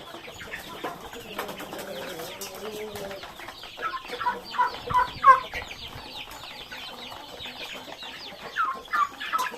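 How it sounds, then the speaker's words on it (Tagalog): Bantam and Rhode Island Red hens nearby, clucking and murmuring in a busy, overlapping chorus, with louder bursts of clucks at intervals over soft background noise. "Meron din pala akong alaga na yung bantam."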